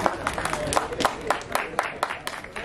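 Audience applause and cheering at a Magdalerap rap battle quarterfinal, a steady crowd wash of clapping with scattered sharper claps, mixed with indistinct voices throughout.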